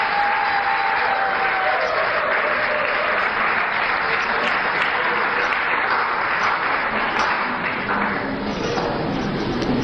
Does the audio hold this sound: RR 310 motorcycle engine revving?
no